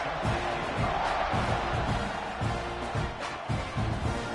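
A college football video game stadium crowd for Missouri at Texas A&M roars steadily at kickoff, a dense, loud wash of cheering with rhythmic thumping underneath.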